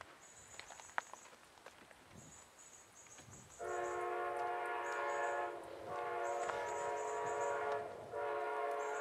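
An Amtrak passenger train passes nearby, its horn sounding in long sustained blasts with brief gaps over steady rolling rail noise, after a quieter lead-in with high squeals.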